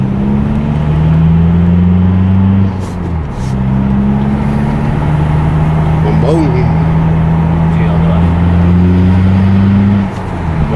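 Diesel car engine idling and pulling away in heavy traffic, a loud steady low drone with two brief dips as it revs and changes gear, close and dominant, with a voice faintly underneath.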